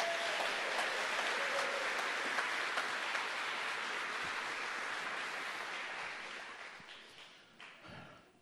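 A church congregation claps loudly and steadily during a morning service, a dense wash of applause that slowly fades out near the end.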